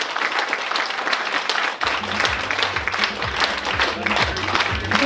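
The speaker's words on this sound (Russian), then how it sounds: "Театр танца «Атамазур», эти аплодисменты для вас." Audience applause for a dance theatre at an Arabian Nights party, a dense wash of many hands clapping that thickens and grows fuller midway, rising above a low hum of crowd noise.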